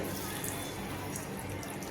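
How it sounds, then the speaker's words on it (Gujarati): Water poured into a mixer jar of coconut chutney ingredients (grated coconut, coriander, salt, cumin, sugar) for mendu vada, a steady close splashing rush lasting throughout with no talk. "જરૂર પ્રમાણે પાણી લઈશું."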